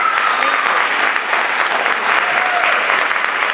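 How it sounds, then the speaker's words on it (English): A theater audience at a film Q&A bursts into sustained applause, a dense, loud wash of clapping with no pause. "Give a round of applause."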